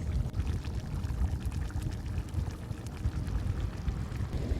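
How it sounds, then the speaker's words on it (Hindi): Spices, salt, chili flakes, turmeric and red chili powder, going into a chicken karahi pan, heard as a steady rushing, crackling sizzle that holds at an even level throughout without any talk. "सबसे पहले हम इसके अंदर डालेंगे 1 टेबलस्पून नमक, 1 teaspoon red chilli flakes, 1 teaspoon हल्दी powder and half tablespoon red chilli powder."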